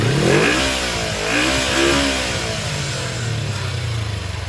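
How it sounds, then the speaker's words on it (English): A 1986 Kawasaki Ninja motorcycle engine revs up close, rising and falling in a couple of throttle blips before settling back toward a steady idle. "Give me a little rev."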